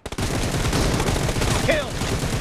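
Dense rapid gunfire from a BGMI team deathmatch match, loud and continuous bursts after a few opening shots, with a faint game voice cue partway through.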